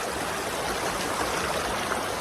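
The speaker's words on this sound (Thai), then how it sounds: "เป็นน้ำตกเล็กๆ ไม่ก็ไม่เล็กอ่ะ ก็ ใหญ่อยู่นะแต่ น้ำใสมากนะครับ" A small waterfall feeds a clear forest stream at a campsite, its water rushing in a steady, dense, close wash of sound with no pauses and no voices.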